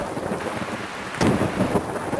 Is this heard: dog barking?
no